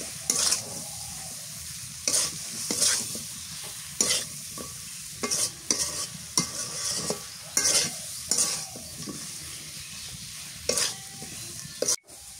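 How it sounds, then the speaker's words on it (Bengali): Eggplant and spices are stir-fried in a pan in village-style winter cooking, with a spatula scraping in repeated close strokes over a continuous soft sizzle and no voices. "এবার বেগুন দিয়ে দিই, বেগুন আর মশলা ভালো করে কষিয়ে নিয়ে যায়।"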